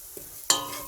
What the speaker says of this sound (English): Give them a good mix.